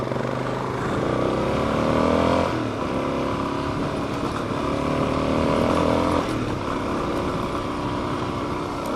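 A car engine pulls uphill in third gear on a mountain pass, droning steadily up close with rising and falling revs as it climbs.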